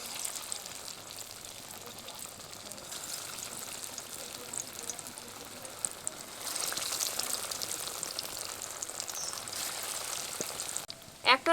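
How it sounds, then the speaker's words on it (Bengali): Masoor dal kebabs are lowered into hot oil, setting off a close, hissing sizzle that swells louder midway, with a couple of sharp utensil taps near the end. "তাহলে চলুন এখন কাবাবগুলো ভেজে নিই। তেলের মধ্যে কাবাবগুলো দিয়ে দেব।"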